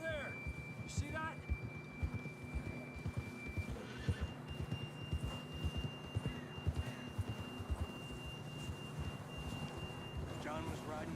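A horse in the video game Red Dead Redemption 2 whinnies and snorts amid steady wind and a low hum, with soft rhythmic thuds like hoofbeats running throughout.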